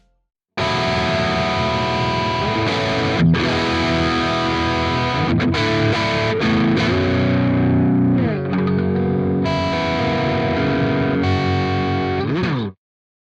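An electric guitar plays through a chorus effect pedal at default settings, shimmering with some distortion, chords ringing out loud and continuous for several seconds before stopping.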